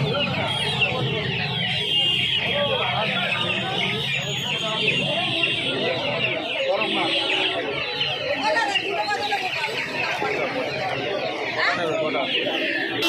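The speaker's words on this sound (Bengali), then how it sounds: "প্রচুর সোনালী মুরগির বাচ্চা রয়েছে দেখতে পাচ্ছ এই ঝাঁকাটার মধ্যে" Masses of Sonali chicken chicks in a basket at a hen market cheep in a dense, continuous chorus, with the murmur of market voices mixed in underneath.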